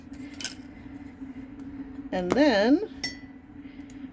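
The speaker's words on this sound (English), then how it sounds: "the first step is to spoon or put your beeswax into the mug" Metal spoon clinks against a mug while beeswax and coconut oil are spooned in, a few sharp taps scattered over a steady hum, with a voice speaking briefly in the middle.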